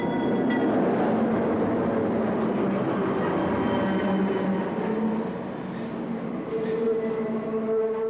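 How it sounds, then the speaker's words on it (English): Freight train passing close by on a coastal rail line during a steam excursion, a loud continuous rumble and rattle of rolling cars with faint squealing tones, steady throughout. "A meet with a freight train is next on the schedule, and before you can say, "Train a-comin'," she's here."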